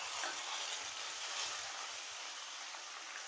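Bottle gourd pieces hit a hot pan for a bottle gourd, tomato and coriander chutney, giving a steady, fairly quiet hiss of frying that holds evenly throughout with no talk.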